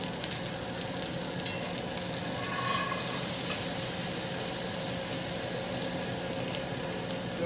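Ribeye steak sizzles steadily in a pan of garlic butter, a dense, even frying hiss that runs without a break from start to end, with nobody speaking.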